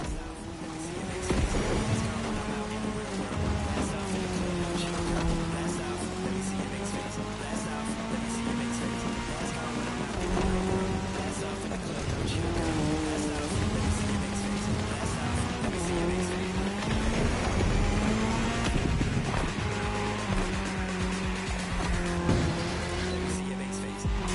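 Race cars in the video game The Crew Motorfest roar through a cross-terrain race on tarmac, engine notes rising and falling continuously with bursts of tire squeal, loud and sustained throughout.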